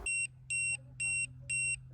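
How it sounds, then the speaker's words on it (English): A Tymate TM7 TPMS tire pressure monitor alarm, tested on a horse trailer, sounding four evenly spaced shrill electronic beeps over a low steady hum. "So that's what the alarm sounds like if you take one of the monitors off."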